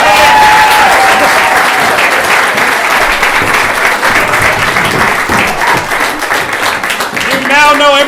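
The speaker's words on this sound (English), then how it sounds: "Give him a big round of applause, everybody" Loud, dense applause from an improv show audience fills the whole stretch, steady and enthusiastic, with a few voices calling out over it near the end.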